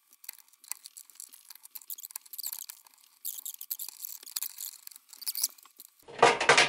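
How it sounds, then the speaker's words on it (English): Small screws are being unscrewed inside an iMac G3, with faint scattered clicks and metallic ticks of a screwdriver and parts, quiet and close, followed by a brief louder rustle at the end. "now let's unscrew the screws"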